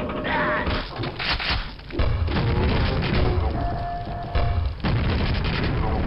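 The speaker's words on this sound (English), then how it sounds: "I gotta use the grenade launcher in a smart way." Grenade launcher explosions in the video game Quake: deep booming blasts and heavy thuds follow one another over a dense rumbling game soundscape, loud and close.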